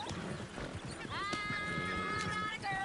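Horse hooves clip-clop rapidly as a horse gallops at full speed in a video game, with a sustained whinny-like tonal cry rising over the steady hoofbeats.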